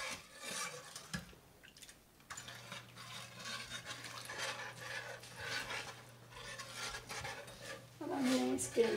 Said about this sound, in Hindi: चीनी डाल के इसको अच्छी तरह से चलाएंगे।